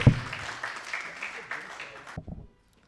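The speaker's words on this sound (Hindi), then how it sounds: "पुरज़ार तालियों से इस्तकबाल कीजिए जनाब फाजिल फैज साहब के।" Brief applause from a mushaira audience in Bhopal welcoming a poet, a moderate wash of clapping that fades and cuts off after about two seconds, with a voice over it.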